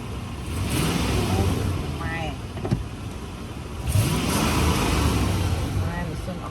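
A 2003 Lexus GX470 engine runs at a quiet, smooth idle close by, a low steady hum beneath someone talking.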